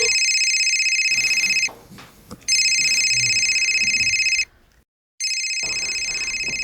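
A telephone rings unanswered in repeated long electronic bursts, loud and close, with short gaps between rings and a full silence before the last burst.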